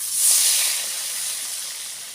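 Water hits a hot pan of tengra fish curry, setting off a sudden close burst of steamy hissing that peaks quickly, then settles into a softer, steady sizzle.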